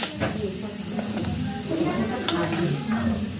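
Chicken fries with Kashmiri chili powder in a pan, a steady close sizzle and hiss with stirring scrapes, while someone talks over it.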